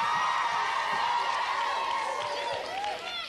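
A game show studio audience cheers and whoops for contestants. The crowd noise is loud and continuous with excited shouts, and a voice can be heard under it.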